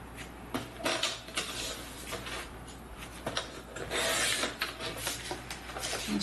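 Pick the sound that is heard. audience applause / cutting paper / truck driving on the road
cutting paper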